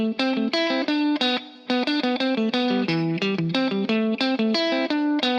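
An electric guitar run through distortion and chorus effects plays the riff of Led Zeppelin's Fool in the Rain, a busy syncopated run of picked notes and chords, close and steady with no talking.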